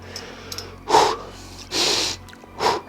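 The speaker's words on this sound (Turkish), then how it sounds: "Nefes alayım. Nefesimi aldım." A person draws breath three times in a row, with a short sniff first, then two long, loud inhalations close to the microphone and a brief final intake, with no talking over them.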